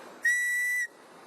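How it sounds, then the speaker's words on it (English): A single sharp, shrill blast from an emergency whistle used for search and rescue, held steady for about half a second, loud and close against a quiet background. "But if they've got a whistle, they're going to be able to hear this. And this is what it sounds like. It's loud."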